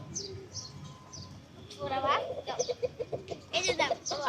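A chicken clucks close by in short repeated bursts while eating grapes, with soft bird calls and a voice in the background.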